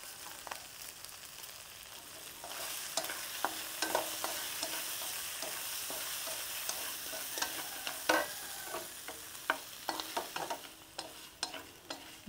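Shrimp stir-fry in a pan with seasoning for a shrimp noodle soup, a soft continuous sizzle broken by repeated scraping and clinking utensil strokes, growing busier toward the end, with no talk.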